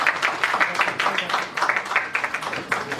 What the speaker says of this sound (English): Mr. Bilhore, please give him a round of applause